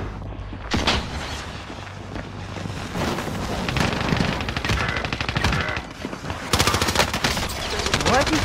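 Rapid automatic gunfire in a first-person shooter video game, bursts of loud close shots rattling over several seconds with brief pauses and some voice chatter underneath.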